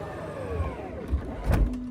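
Power window on a Porsche 911 closing, a thin motor whine gliding steadily for a second or so, then a soft thump and rustle as the glass seats, recorded close inside the cabin.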